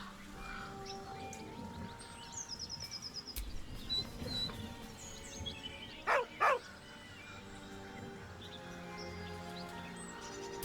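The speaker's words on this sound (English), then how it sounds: "With a deep, heartbroken whine, the dog bows his head." A dog whines in the video game Baldur's Gate 3: two short, close, rising-and-falling whimpers near the middle, set against soft birdsong and quiet ambient game background.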